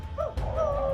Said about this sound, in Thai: เมื่อจู่ๆได้มีเสียงสุนัขได้ส่งเสียงเห่าหอนอย่างโหยหวน